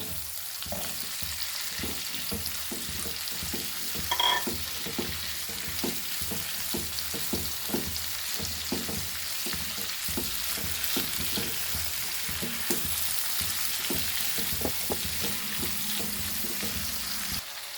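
Capsicum frying in hot oil with prawns for a sweet and spicy prawn dish, a steady close sizzle with repeated scraping and stirring clicks throughout, no voices.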